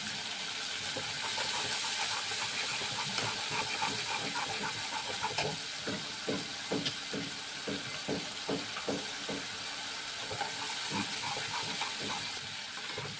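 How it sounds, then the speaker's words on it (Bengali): Water added to frying ground spices gives a steady sizzling hiss from a hot pan, with a run of soft rhythmic bubbling pops through the middle, close and fairly quiet. "মশলাটা একটুখানি ভাজা হবে, জলটা দিয়ে দিচ্ছি।"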